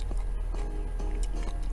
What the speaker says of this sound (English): as I'm eating cucumbers